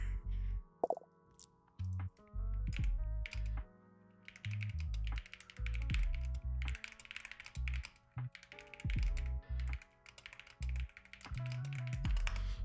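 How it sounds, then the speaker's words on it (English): Someone typing a message on a keyboard, a long run of quick, uneven key taps in close bursts with short pauses, near and fairly loud, no talking. "That's me typing."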